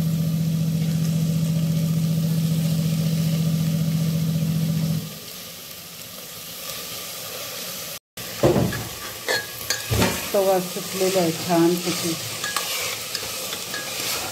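Cauliflower and peas are stirred and sautéed in a pan for a quick matar paneer pulao, a steady frying hiss giving way to spatula scrapes and clinks against the pan, with a brief voice in Marathi.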